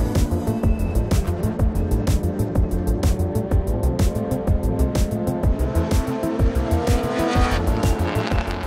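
A race car at speed on a circuit, likely an in-car view with ABS switched off, its engine roaring loud and continuous, rising and falling through gear changes, with tire squeal and skidding as it brakes and corners.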